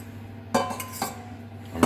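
Custard mix of sugar and corn flour is poured back into a saucepan, giving a few sharp clinks and scrapes of metal and utensil, close and spaced apart, with no talking.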